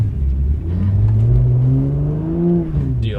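A car engine loads up and revs steadily as the car spins a donut in snow during a blizzard, a loud, continuous whirring drone that rises and falls slightly, heard up close from inside.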